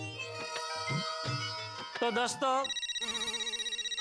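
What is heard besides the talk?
mobile phone ringing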